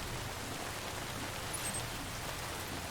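Rain falls steadily in Death Stranding, a soft, even hiss that stays faint and unbroken throughout, with no voices.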